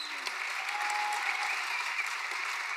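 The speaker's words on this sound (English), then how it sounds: "Give them a round of applause to these guys." Audience applause fills a Comic-Con panel hall at the Game of Thrones panel, a steady dense wash of clapping held at even loudness throughout with no speech over it.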